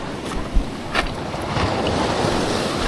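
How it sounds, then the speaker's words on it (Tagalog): Sea waves wash steadily onto a shore at a morning fishing spot, producing a continuous broadband surf roar with wind buffeting the microphone and a few short splashing surges. "maganda na yung alon"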